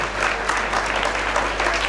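Audience at a temple gathering clapping for a young volunteer snake catcher, a brief burst of dense, fairly close applause with no voices over it.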